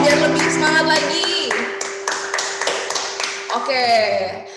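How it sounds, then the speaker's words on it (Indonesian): Children clap their hands in a series of sharp, rhythmic claps mixed with loud voices and singing nearby. "Tepuk tangan dong biar lebih semangat lagi"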